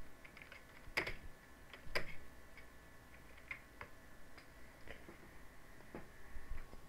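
Fingers typing on a computer keyboard to enter a channel name in a design program, scattered light clicks and a few sharper taps, close and fairly quiet, no talking.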